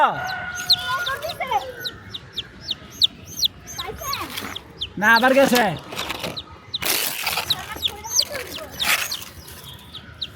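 A hen clucks repeatedly with short, sharp calls close by, bursts coming in uneven runs, while a person speaks at times and a rooster-like crow rises once midway.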